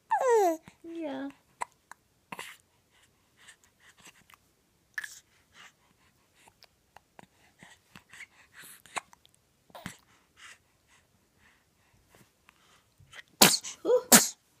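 Sparse quiet scene with soft vocal sounds and breaths, ending in a loud, sudden sneeze near the end; a high babbling voice is heard at the start.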